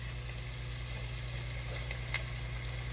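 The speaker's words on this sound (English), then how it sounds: "It should have a nice little sizzle when it hits the oil" Food sizzling in hot oil in a frying pan, pressed against the pan bottom during a home cook-along; a steady, close hiss under a low hum, with one small pop near the end.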